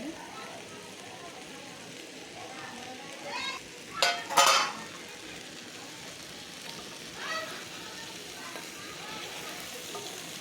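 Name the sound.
tomatoes added to the pan for vegetable khichri, frying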